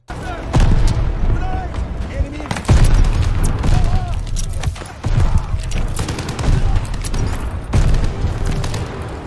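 Massive 88 flak guns fire repeatedly in Call of Duty Vanguard's El Alamein battle, a series of loud, heavy booms with rumbling tails and scattered gunfire, while someone talks over some of the barrage.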